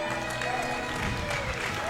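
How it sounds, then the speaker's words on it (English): A crowd at a Smash 4 Wii U tournament claps and cheers for the singles winner, a dense wash of applause heard under a voice talking over it. "we should have a round of applause for Mr. R doing so well in this tournament."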